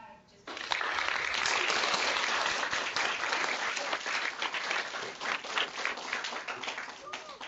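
An online audience gives a Pro Football Hall of Famer a warm round of applause, with dense clapping that starts abruptly, stays loud, then thins into scattered claps.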